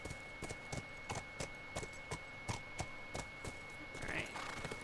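A horse's hooves clip-clop in a steady, evenly spaced walking rhythm in The Last of Us Remastered, quiet and close, with a brief chirp near the end.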